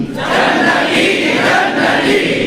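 Dense crowd chanting religious slogans at a devotional gathering, a loud unbroken roar of many voices sustained throughout, with no single speaker standing out.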